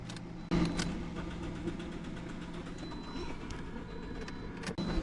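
A 2013 Toyota Corolla engine cranking without catching, a steady starter churn running for several seconds, close up inside the car.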